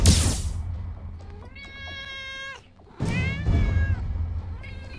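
A cat gives two long, drawn-out meows, loud and close, separated by a short pause, over a steady background hum that opens with a brief burst of noise.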